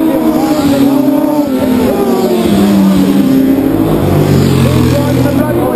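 Street-race motorcycle, the Autotech Honda ridden by Daniel McKenzie at Mountain Thunder, roars past with a loud sustained engine drone and a shifting pitch, its note swelling and falling beneath a commentator's continuous voice.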